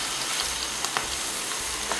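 Steady crackling sizzle of potato fritters frying in hot oil, with a few sharper pops scattered through the continuous hiss.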